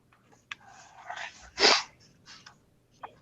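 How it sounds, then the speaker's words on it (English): A person sneezes once, a short bright burst in the middle, set among soft breaths and small snuffles in a quiet room, close to the microphone with no talking. "My brother sneezed."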